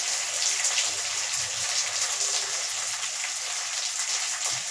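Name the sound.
mint leaves frying in a hot kadai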